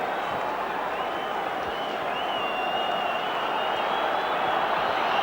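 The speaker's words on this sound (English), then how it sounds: "Good defensive work by the Tin Man, getting the applause of that Burnley support." Burnley supporters applaud in the crowd at the 1994 play-off final against Stockport County, a steady roar of clapping and crowd noise with a commentator talking over it.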